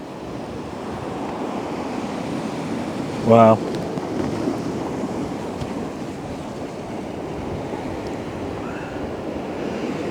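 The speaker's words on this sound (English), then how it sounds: "It's lapping up against the sea wall here." Sea waves lapping against the Blackpool sea wall on a calm, rainy day, a steady broad wash of surf that holds at one level throughout, with a brief exclamation from a man partway through.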